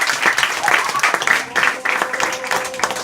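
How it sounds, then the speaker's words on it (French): An audience at a campground hypnosis show breaks into applause, clapping in uneven surging bursts that rise and dip over a few seconds. "on peut les applaudir"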